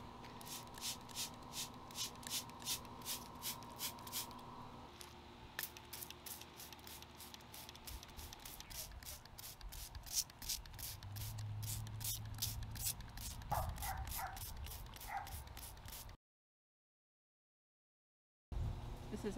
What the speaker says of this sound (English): just going to spray it pretty well.